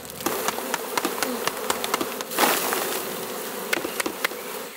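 Honeybees shaken from a hive frame into a bucket make a dense, steady buzzing drone, with frequent sharp taps and knocks and a brief rush of noise partway through, all close and fairly loud.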